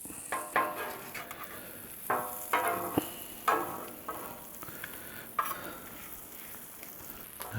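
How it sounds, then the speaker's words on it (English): Shrimp cooking on a Blackstone griddle sizzle steadily up close, broken by several scraping and stirring strokes of a spatula on the hot steel, with no talk. "We're just gonna let this shrimp here cook up."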